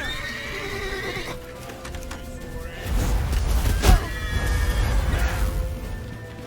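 In The Witcher 3, a horse neighs loudly amid clip-clopping hooves and rushing movement noise, the whinny sharp and close over a busy, rumbling background.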